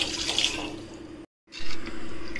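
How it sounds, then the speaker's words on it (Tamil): Water runs steadily from a tap into a pot for foxtail millet sambar rice, a continuous close splashing stream with a brief break midway. "இப்போ நம்ம தண்ணி விட்டுக்கலாங்க."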